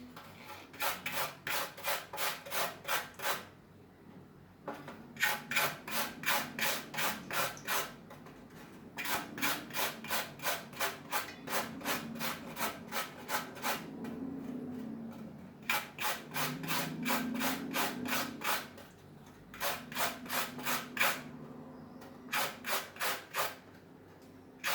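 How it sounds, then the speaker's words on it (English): An Irish potato grated by hand on a box grater: repeated bursts of fast, rhythmic scraping strokes, close and fairly quiet, with brief pauses between runs. "to this I am gonna put 1 Irish potato. I'm gonna use this side of the grater."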